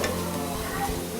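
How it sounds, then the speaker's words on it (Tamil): Continuous crackling sizzle of multigrain vada frying in hot oil, close and steady, with faint stirring scrapes. "சூப்பராக வடை பொரிஞ்சு வருது பாருங்கள்."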